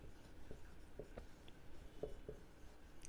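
Writing on a board during a geometry lecture, faint scratchy strokes and soft taps coming in short bursts at a moderate distance, alone and without talk.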